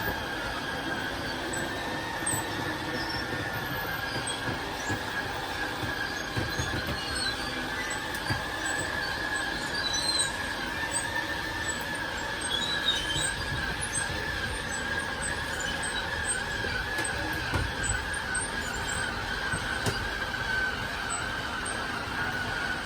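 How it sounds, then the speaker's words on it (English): The slide-out motor on a 2014 Crossroads Sunset Trail RV runs continuously, a loud, steady grinding drone that holds without pause for the whole stretch. "For your slide out, just press and hold out, and that slide will make its way out."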